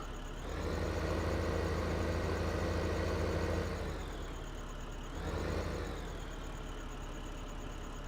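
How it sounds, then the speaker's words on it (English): Steady low engine drone of a tractor in Farming Simulator 2015, a continuous mechanical hum with a brief dip in pitch and level midway before settling again, no talk over it. "Let's move this tractor over to the other one."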